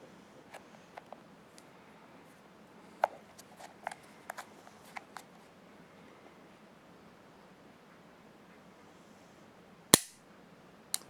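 A .500 Magnum revolver fires one loud, sharp gunshot with a quick decaying tail, preceded by scattered faint clicks and handling noises against a quiet background.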